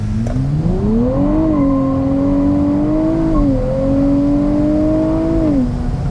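A Nissan launching hard on launch control, engine revving and pulling up through the gears with rising and stepping pitch, loud and close from inside the car, no talk.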